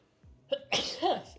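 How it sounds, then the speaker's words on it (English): A single sneeze bursts out close by, a short sharp intake followed by an explosive nasal blast, with quiet room noise and a faint voice around it. "I think that was a sneeze."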